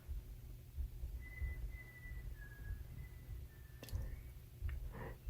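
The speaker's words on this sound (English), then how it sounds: "He's just whistling away" Faint, thin whistling drifts in the background in a few sustained notes, with soft clicks and rustles nearby.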